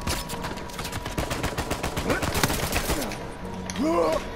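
Rapid gunfire in the video game Uncharted 4 during a river level: a fast, steady burst of loud shots crackling close by, with a voice briefly heard near the end.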